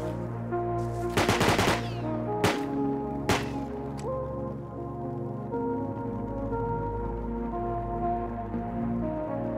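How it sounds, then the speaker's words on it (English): Gunfire in Rust: a rapid burst of automatic shots followed by two separate sharp cracks and a fainter pop, mid-distance and loud over a humming background, then quiet ambience. "Is that you shooting at them?"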